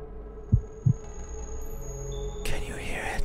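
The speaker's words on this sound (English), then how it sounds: "I hear a heartbeat." In the horror video game Don't Open Your Eyes, two heavy low thumps of a heartbeat land about a third of a second apart over a steady hum, then the sound gives way to brief voices and a rising swell.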